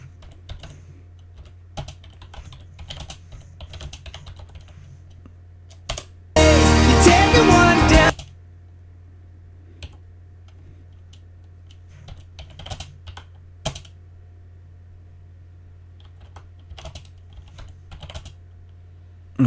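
Typing on a computer keyboard while playing Rocket League, scattered clicky keystrokes in irregular bursts over a low hum, broken by a short loud stretch of music in the middle.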